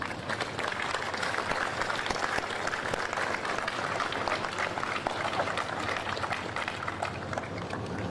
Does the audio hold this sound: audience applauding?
yes